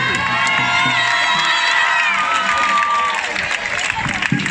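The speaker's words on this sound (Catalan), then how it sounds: "Un aplaudiment!" A festival crowd at the opening of Sant Celoni's Festa Major 2022 applauds and cheers loudly, with sustained shouts and whoops over clapping and children's voices throughout.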